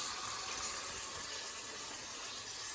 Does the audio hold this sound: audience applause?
no